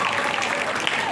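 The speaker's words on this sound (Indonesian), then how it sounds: "Oke, baik, tepuk tangan." An audience at a school student council candidate debate claps, a brief, dense patter of many hands filling the room without pause.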